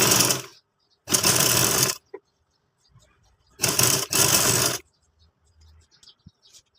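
A sewing machine stitching gota patti trim onto a summer dress, two short bursts of fast whirring stitching separated by pauses, close and clear with faint handling clicks in the quiet gaps.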